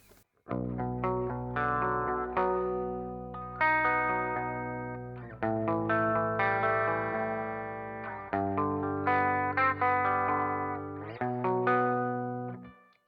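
Clean electric guitar playing chords and melodic lines, bright and sustained with a slight shimmer, phrases ringing out continuously with no talking.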